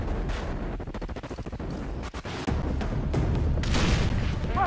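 In the video game Far Cry 3, gunfire cracks out in rapid irregular bursts over a loud, rumbling battle din, with booming reports throughout.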